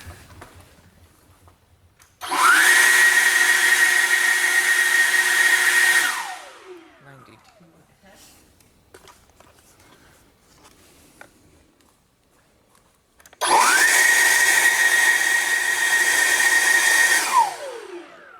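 A loud, steady motorized whine from an EGO battery leaf blower with a stubby nozzle runs for a few seconds, cuts off, then after a quiet stretch starts again for a second equally loud burst.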